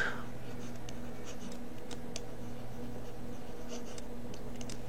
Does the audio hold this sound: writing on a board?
yes